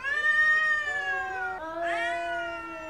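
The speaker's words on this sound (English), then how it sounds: "it was like the noise a cat makes, you know, that caterwauling, when a cat is afraid but is prepared to fight" A frightened cat caterwauling as it prepares to fight: a loud, drawn-out wavering yowl that dips sharply midway, then rises again into a second long harsh wail, close and alone with no voices.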